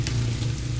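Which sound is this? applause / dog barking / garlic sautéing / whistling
garlic sautéing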